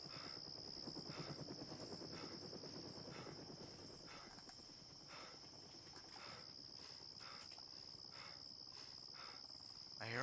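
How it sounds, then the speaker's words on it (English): A helicopter in the DayZ video game throbs with a low rhythmic rotor pulse, faint and distant beneath a steady high insect-like chirr of game ambience. "I hear another heli."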